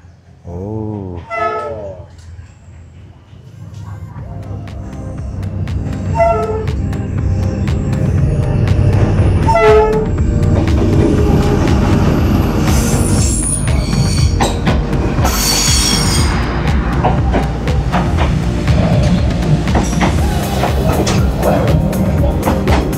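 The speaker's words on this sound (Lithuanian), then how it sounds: "Girdim jau garsus traukinio" A train in Vietnam approaches and rolls past up close, its wheels screeching and squealing against the rails over a loud, steady rumble that builds and holds.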